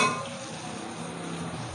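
Tomato, ginger-garlic masala fries in a pan with red chili powder just added, a steady close sizzle with faint stirring scrapes throughout.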